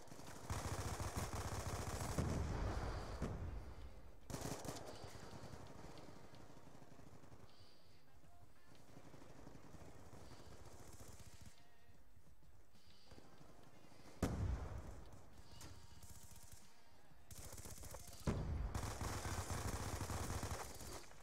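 Gunfire in the first-person shooter Black Ops 2, repeated bursts of automatic shots and explosive thumps at moderate loudness, clustering at the start, middle and end with quieter stretches of game ambience between.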